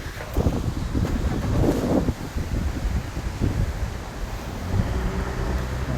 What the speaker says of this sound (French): C'est pour ça qu'il y a le vent, puisque là c'est le vent du nord qui vient